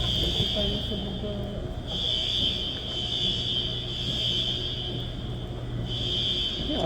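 A fire alarm sounds continuously in a shopping mall at closing time, a steady high electronic tone with brief periodic breaks, heard over a roomy background hum while people talk nearby.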